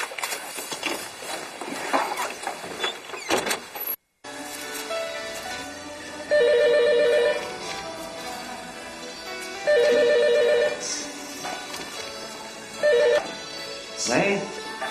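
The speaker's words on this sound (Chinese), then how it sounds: "芳芳，来接电话。" A telephone rings in a domestic scene from a Chinese suspense drama, three separate bursts of electronic ringing with pauses between, heard over low room sound and brief background noise.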